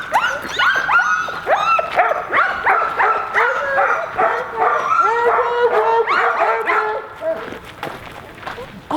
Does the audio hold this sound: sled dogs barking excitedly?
yes